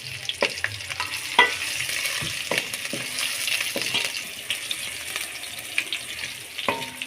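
A chana dal tadka sizzles steadily in hot oil as green onion goes in, with repeated sharp scrapes and clinks of stirring breaking through the frying hiss.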